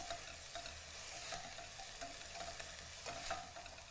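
Chopped onion fries in a pan with cumin seeds for rice, giving a steady, soft sizzle with faint stirring scrapes and crackles throughout, close but low in level, with no talk.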